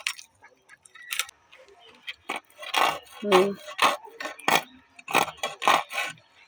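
Scales being scraped off a snakehead fish with a knife, a run of short raspy strokes in uneven rhythm, close and moderately loud, with brief quiet gaps between bursts.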